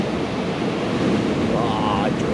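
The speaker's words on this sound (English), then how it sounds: "Oh, drainer spit." Hollow, heavy beach-break surf spitting spray out of the barrel, a steady loud roaring wash of whitewater with wind noise, and a faint voice briefly audible near the end.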